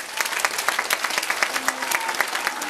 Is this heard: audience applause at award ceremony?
yes